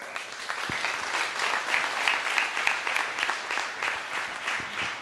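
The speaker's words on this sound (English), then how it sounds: "Big round of applause." A conference audience applauds in a sustained, dense round of clapping from many hands, fairly loud and rippling for several seconds.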